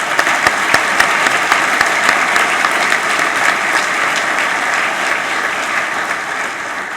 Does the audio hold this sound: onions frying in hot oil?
no